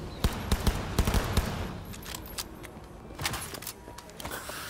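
Rapid bursts of gunfire in Cyberpunk 2077, sharp repeated shots in clusters near the start and again later, fairly close and loud over a low rumbling background, with no talking.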